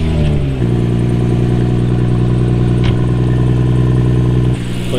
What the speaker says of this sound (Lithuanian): Pašildom varikliuką.